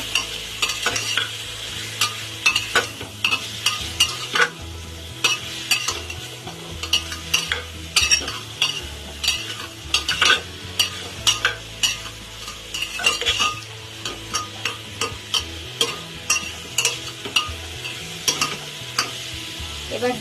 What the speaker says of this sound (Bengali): একসঙ্গে ভালো করে নেড়ে চেড়ে নেব।